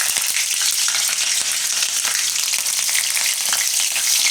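Green chili dropped into hot oil in a Gujarati home kitchen for mushroom shaak, giving a steady, close sizzle and crackle of frying that holds evenly throughout with no talking.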